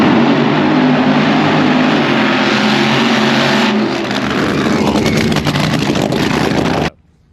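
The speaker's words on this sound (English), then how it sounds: "It's time to burn some nitro again." Nitro-burning drag racing car at a drag strip, a loud sustained roaring engine run lasting about seven seconds, close and overpowering, then cutting off abruptly.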